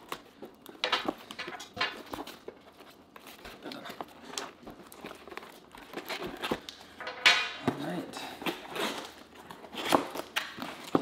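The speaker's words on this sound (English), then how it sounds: "So let's go ahead and get into opening it up." A cardboard box holding a YouTube silver play button is cut and pried open, with scattered scrapes, crinkles and cardboard taps at close range, fairly quiet and irregular, with no talking.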